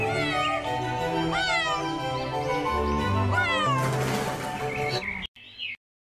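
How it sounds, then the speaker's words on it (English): A cat meows repeatedly, a series of loud, drawn-out rising and falling cries heard up close, ending in a brief pause and one final shorter meow. "C for cat"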